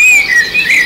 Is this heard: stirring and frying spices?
no